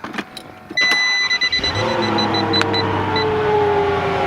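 A Mercedes CL55 AMG engine cranks and catches partway through, settling into a steady idle hum with a few faint beeps and clicks beforehand.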